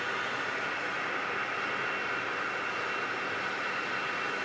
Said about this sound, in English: There is our 757 landing on runway 8.